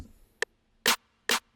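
Three trap-beat snare hits in quick succession: a short, softer first hit followed by two fuller, louder cracks, each cutting off cleanly with silence between.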